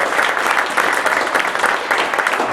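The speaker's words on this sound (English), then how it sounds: "Let's give Marty a round of applause" Audience at a small Wichita business pitch gathering gives a round of applause for a presenter, brisk continuous clapping from a nearby crowd throughout.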